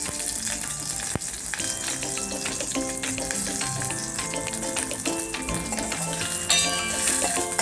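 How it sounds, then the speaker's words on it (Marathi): Chopped onion goes into hot oil already tempered with mustard seeds and cumin, giving a continuous crackling sizzle with scattered sharp pops and stirring close by, steady throughout. "थोडासा कांदा घालूया फोडणी"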